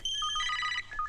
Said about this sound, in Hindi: सर, अमेरिका से बिल क्लिंटन का फोन है सर